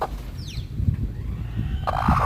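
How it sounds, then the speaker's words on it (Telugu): A hen clucks softly amid faint high peeps from her newly hatched chicks, with low rustling and scratching nearby and no talking. "ఆ కోడి ఇదేనండి. ఈరోజు పిల్లలు చేసినాయి."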